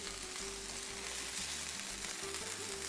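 Hash brown potatoes frying in a pan just after being flipped, a steady, faint hiss and crackle of sizzling oil heard alone with no talk.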